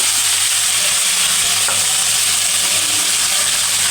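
Drained flat beans (chikkudu) fry in hot oil, producing a loud, dense, unbroken sizzle and hiss heard up close throughout, with no talking over it.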